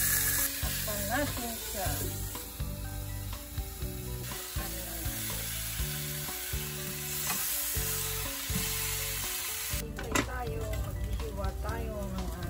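Spare ribs frying in a hot pan give off a continuous sizzle beneath a speaking voice, with occasional clatters and scrapes from the pan and utensils and a louder burst of sizzling near the end.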